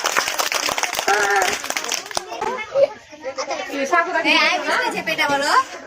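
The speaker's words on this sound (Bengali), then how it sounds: "সুরার জন্য তালি, জোরে তালি দাও" Children clap at a school picnic organised by a Bangladeshi public school and coaching centre, with a short burst of applause mixed with lively child chatter and an adult voice nearby.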